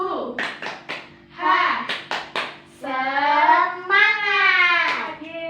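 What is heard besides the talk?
class clapping rhythmic 'tepuk semangat' cheer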